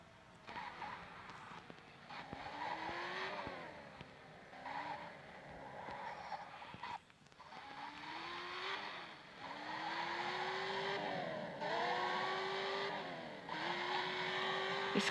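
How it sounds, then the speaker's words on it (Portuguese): Skyline car in Car Parking Multiplayer driving and losing traction, its engine revving and rising in pitch through repeated gear climbs, with tire squeals and skids at high speed, continuous and moderately loud. "Esse carro aqui do Brian é bom, só que ele perde a tração fácil"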